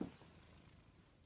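A domestic cat purring close by, a soft steady low rumble running through the whole short stretch, faint and continuous with no talking over it.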